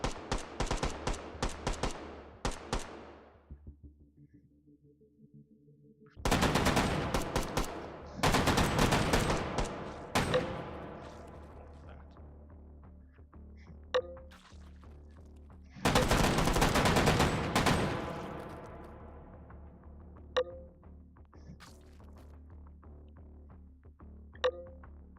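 Full-auto bursts from an AA-12 automatic shotgun in the VR shooter H3VR: loud rapid rattling volleys in several long bursts, each separated by pauses, with ringing tails and a few lone sharp shots and clicks between them.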